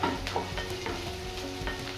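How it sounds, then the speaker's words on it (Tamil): Onion fries in a pan with a close, steady sizzle, broken by several rhythmic scraping strokes of a spoon stirring through it. "ஃப்ரை ஆகட்டும்."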